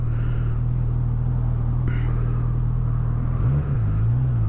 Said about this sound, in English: Let's have a listen to this engine roar.